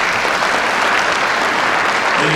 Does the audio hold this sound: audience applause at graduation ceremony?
yes